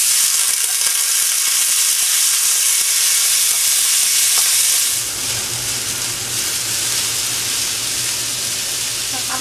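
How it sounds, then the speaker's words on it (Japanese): Finely chopped onion sautés in a small cast-iron skillet with a loud, constant sizzle and hiss that drops slightly and turns softer and crackly about halfway through. "玉ねぎを半分みじん切りしたものを炒めます"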